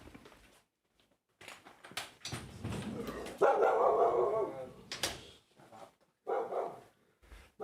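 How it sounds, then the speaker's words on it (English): A dog barks at the door indoors, giving repeated sharp barks and yips mixed with whimpering, some close and loud, in an irregular burst lasting several seconds. "She's barking her head off."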